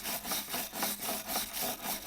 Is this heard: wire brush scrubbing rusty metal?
yes